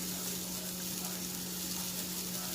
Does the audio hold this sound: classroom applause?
no